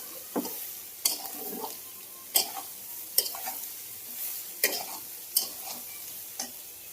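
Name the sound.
frying soybean chunks with turmeric in a pan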